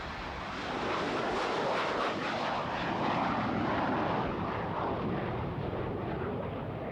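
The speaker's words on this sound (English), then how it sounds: "super jumbo jets like this one will carry as many as 800 people" A super jumbo jet airliner roars steadily and loudly for the whole stretch, a dense broadband engine drone that swells slightly after the first second and holds with no voices.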